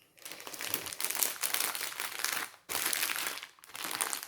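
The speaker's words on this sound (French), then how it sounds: "Je vais fermer les sachets pour vous montrer." Plastic sachets of diamond painting drills crinkle and rustle as they are closed, in two long bursts broken by a short pause, close and fairly quiet, with no talking.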